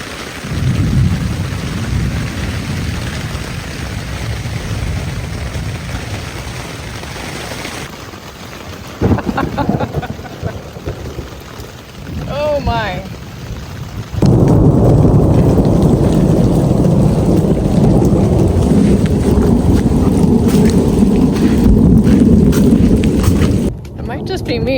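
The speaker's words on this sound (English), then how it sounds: "It might just be me, but I really like thunderstorms." Strong wind and heavy rain from a thunderstorm roar in broad, steady gusts at a primitive campsite at Enchanted Rock State Natural Area in Texas, with a brief spoken exclamation partway through.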